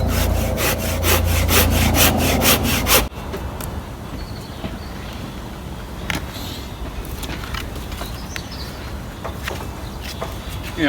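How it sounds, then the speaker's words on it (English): Firewood being cut with a saw outdoors from small, dry fallen branches that have lain for a couple of years: a loud, rapid, rhythmic run of close saw strokes for about three seconds, then quieter scattered rustling and handling with faint birds. "cut a bit of firewood"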